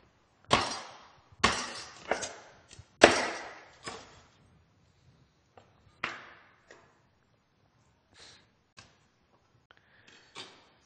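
A large knife chops through a rabbit carcass on a board in a quiet room, several sharp cracking blows followed by fainter, scattered cuts and taps.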